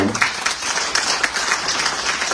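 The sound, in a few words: audience applause at a book launch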